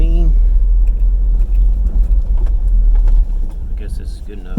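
A car engine rumbles steadily from inside the vehicle while driving and pulling in to park on land being cleared, a loud low drone throughout, with a brief tone near the start.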